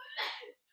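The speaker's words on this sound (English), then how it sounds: "some of you might have just heard me sneeze." A single short sneeze bursts out close to the microphone, a sharp breathy blast that cuts off quickly into silence.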